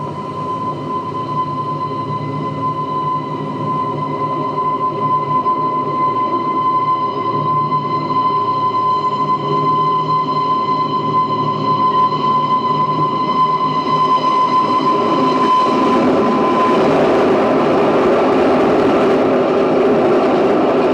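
An express train roars past nearby, a steady heavy rumble with a high whining tone, building louder toward the end.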